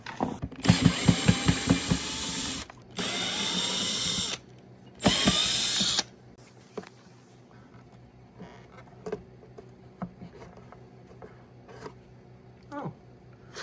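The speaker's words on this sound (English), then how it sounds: "I can probably use the drill, huh?" A power drill whirs in three bursts of a few seconds each, loud and close, followed by quieter clicks and handling noises.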